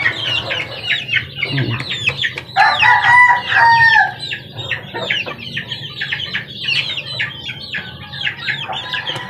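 Mother hens cluck loudly among their chicks, which peep in rapid high chirps, and a rooster crows once in a long rising call over the steady clucking. The whole flock is close and busy throughout.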